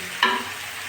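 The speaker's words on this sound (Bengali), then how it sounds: "ধুয়ে রাখা মুসুরের ডালগুলো দিয়ে একটু ভালো করে কষিয়ে নেব" Washed red lentils stir-fried in a hot pan with salt and turmeric while cooking kochur loti chorchori, a sudden loud stirring scrape and sizzle that settles into a steady, fainter frying hiss.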